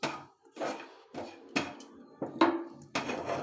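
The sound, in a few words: adding fried carrots to a pot and stirring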